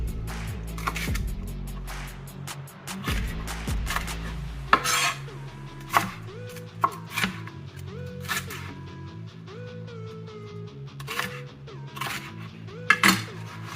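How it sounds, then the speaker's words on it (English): Chopped vegetables for steak and chicken skewers are tossed together in a bowl, giving close clinks and scrapes over a sustained musical background. "I always like to kind of mix them once they're in."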